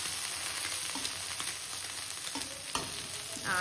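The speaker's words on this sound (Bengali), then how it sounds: "এইদিকে ডিমের পোচ বসিয়ে দিয়েছি" Eggs fry in a pan in a continuous close sizzle and crackle, broken by a few light scraping or stirring touches.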